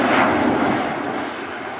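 Avro Vulcan XH558 jet bomber on a slow demonstration pass at the Farnborough Air Show 2014, a loud, broad roar of jet engines filling the air steadily and easing off slightly toward the end.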